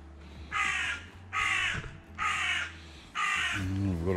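A crow cawing near a polytunnel, four loud harsh caws in a steady rhythm, close by, with a low engine-like hum underneath.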